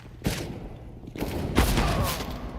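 Gunshots during a competitive Counter-Strike match: a few loud, close bursts of fire over steady in-game noise, with no talking.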